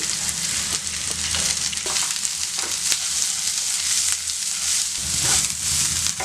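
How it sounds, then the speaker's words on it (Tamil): Chopped onion and green chilies fry in hot oil for honey chicken, giving a loud, continuous sizzle and crackle with occasional scrapes of a spatula stirring the pan. "இப்போ பாருங்கள், இதில் வெங்காயம் போட்டுக்கலாம்."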